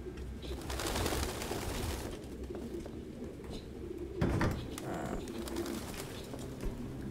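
Pigeons cooing in low, soft, drawn-out calls through a steady background hum, with one sharp knock midway and no voices.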